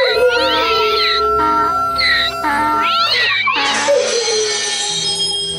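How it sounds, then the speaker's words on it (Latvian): A donkey, dog, cat and rooster cry out together in a loud, close, continuous chorus dominated by long, wavering meows and yowls that rise and fall, ending in a harsher blended burst. "Ēzelis bļāva, suns rēja, kaķis ņaudēja un gailis dziedāja"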